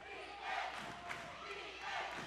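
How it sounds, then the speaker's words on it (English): The home crowd at a Weslaco Lady Panthers high school girls' basketball game against Laredo South chants for defense in rhythmic swells of massed voices that rise and fall twice, echoing through the gym. "Lady Panther crowd wanting defense"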